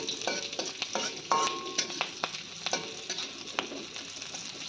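Slit green chillies fry in oil with a continuous close sizzle, broken by intermittent scrapes and taps from a spatula stirring the pan.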